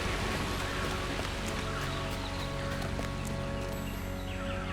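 Horse hoofbeats while riding in Lord of the Rings Online, a steady, rapid clip-clop of galloping hooves that runs without a break, set against a dense ambient backdrop.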